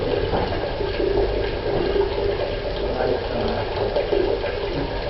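Water running from a newly installed water heater into a bucket, a steady, close rushing splash that holds at an even level throughout with no pauses.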